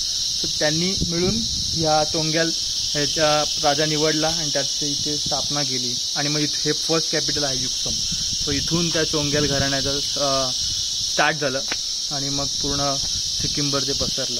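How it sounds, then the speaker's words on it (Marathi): Dense, steady cricket chorus shrills without pause through a daytime scene at Yuksom, Sikkim, loud and constant beneath someone talking continuously in the foreground. "आजूबाजूला तुम्हाला रातकिड्यांचा खूप आवाज येत असेल."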